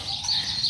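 Backyard chickens cluck softly while one finds a worm in the garden, a short, close, continuous burst of hen chatter with no talk over it.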